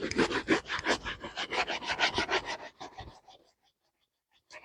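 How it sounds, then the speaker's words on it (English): A shoe being polished by hand with homemade charcoal polish, giving a steady run of close, loud rubbing strokes in quick rhythm that stops about two thirds through, then silence and one faint stroke at the end. "So let's start the polishing."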